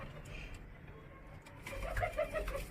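Home-bred domestic pigeons, a young male from a dabba pair among them, coo in a few soft, rolling phrases close by, growing louder toward the end.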